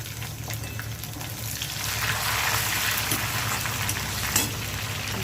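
Onions fried reddish-brown in hot oil, with chopped tomato added, give a continuous close sizzle that swells slightly partway through. A small knock comes near the end and nobody speaks.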